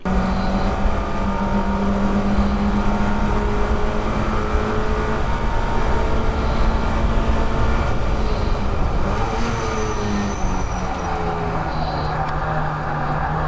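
Mazda MX5 race car engine revving hard on the Croft circuit, a loud sustained drone with rising and falling pitch as the throttle opens and eases during the race.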